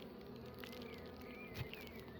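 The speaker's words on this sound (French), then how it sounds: "Il reste un peu des abeilles dedans." A handful of bees linger inside an opened hive box, giving off a soft, continuous buzzing hum with occasional nearer wingbeat drones passing close. The sound is faint and has no talk over it.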